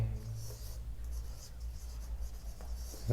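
Pen or pencil writing on paper, a continuous close scratching and scribbling with small pauses over a low room hum.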